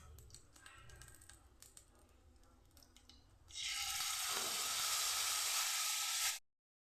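Ground spices hit hot oil already holding fried cardamom, cinnamon, whole cumin and bay leaf, bursting into a loud, sustained hiss after some quieter kitchen clinks, then cutting off abruptly.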